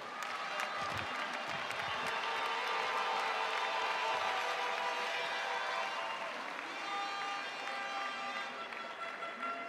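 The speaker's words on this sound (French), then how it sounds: "vous allez commencer par les applaudir et par vous applaudir" An audience at a cattle show claps steadily for the cows in a sustained burst of applause that fills a large space at moderate distance and tapers slightly toward the end.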